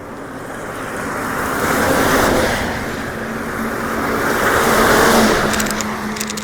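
A car passes along a village road in rainy weather, its broad engine and tyre rumble swelling and fading twice as it goes by, with steady background wash throughout and no talk.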